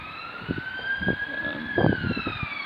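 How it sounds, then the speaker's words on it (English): An ambulance siren wails in a steady, slightly gliding tone at a moderate distance while a person speaks quietly nearby over it. "It's also another ambulance."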